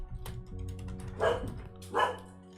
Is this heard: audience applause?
no